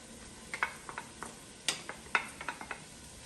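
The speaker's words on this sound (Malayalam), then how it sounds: "വെളുത്തുള്ളി ഇട്ട് ഇനി നന്നായിട്ട് അതൊന്ന് വാട്ടിയെടുക്കണം" Garlic being sautéed in a pan with ginger for a Kerala mutton curry, a quiet sizzle punctuated by a series of sharp spatula clicks and scrapes against the pan, close and irregular.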